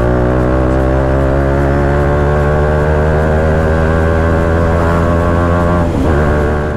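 A modified BMW 310R motorcycle with an aftermarket exhaust idles steadily up close, its single-cylinder engine giving a loud, even, throbbing drone with stacked harmonics and a brief blip of revs near the end.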